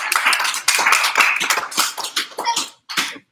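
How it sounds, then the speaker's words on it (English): An audience at a mermaid swim show at a maritime festival gives a round of applause, with dense, loud clapping that swells in bursts, briefly drops out, then returns. "Give her a round of applause."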